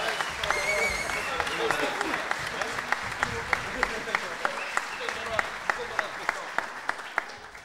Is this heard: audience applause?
yes